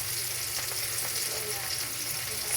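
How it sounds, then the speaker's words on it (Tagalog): Tomato and onion sizzle steadily in a frying pan, a continuous broadband crackle with soft stirring scrapes and no talk. "So, i-cook muna natin yung tomato. Saka yung onion."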